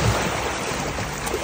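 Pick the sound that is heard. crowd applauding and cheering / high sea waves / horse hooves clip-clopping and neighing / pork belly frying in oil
high sea waves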